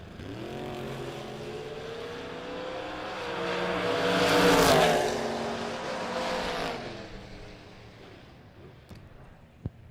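A Chevy II drag race car launches and builds to a loud, rising engine roar at a drag strip, peaking mid-run and then fading away down the track.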